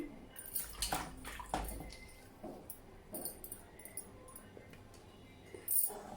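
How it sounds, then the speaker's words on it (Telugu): Green chillies being rinsed under running water in a kitchen, with splashing flow and a few clinks of a dish, moderately close and alone without talk. "ఇలా కడిగి ఇలా పెట్టేసుకోండి అలాగే పచ్చిమిర్చి కూడా కడిగేసుకుందామండి"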